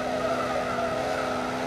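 Volkswagen Saveiro pickup tires squealing in a sustained skid after the handbrake is pulled, a steady, tonal screech held throughout the short moment.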